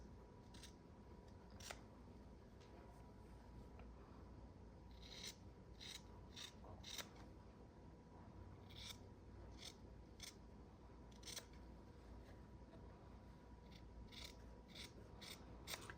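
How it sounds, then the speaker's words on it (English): Scissors snip through a doubled layer of fabric in a series of crisp, irregular cuts, close and fairly quiet, with no talking. "You can cut out by hand with a pair of scissors."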